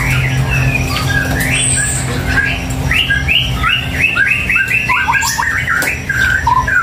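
A small gelatik batu songbird gives repeated squawking, chirpy calls in fast bursts, close and loud over a steady background hum.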